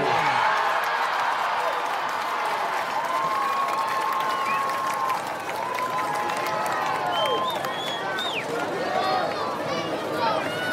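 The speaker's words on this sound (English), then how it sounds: "how about one more round of applause for all of our nominees tonight" Steady applause from a crowd at a high school homecoming ceremony fills the space, with scattered cheers and whoops rising over the clapping throughout.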